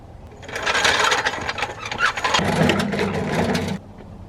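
A swapped 2.5 RS engine fitted into a JDM car cranks and catches, a rough mechanical whirring that swells and sputters at close range, then settles into a steadier idle before cutting out.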